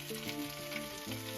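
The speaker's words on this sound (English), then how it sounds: "I'm gonna let that sizzle up and fry" Spam slices fry in a pan with a close, steady crackling sizzle throughout the short stretch, no talking.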